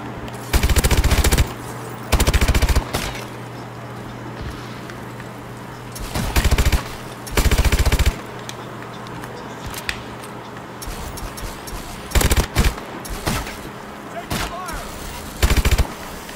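Bursts of loud automatic gunfire from Advanced Warfare zombies mode, a video game, come in several long volleys with quieter single shots between, while players chat over the action.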